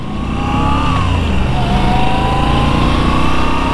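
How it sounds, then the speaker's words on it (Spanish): A Moto Guzzi V7 Stone motorcycle engine runs steadily at close range, a loud, even idle with a rising and falling whine throughout. "El motor, me gusta mucho cómo suena."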